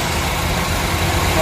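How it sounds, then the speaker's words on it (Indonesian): A 2010 third-generation Honda CR-V with a 2000 cc engine idles smoothly, a steady, even hum with no revving, close by and without talk. "Oke teman-teman, mesin masih sangat halus"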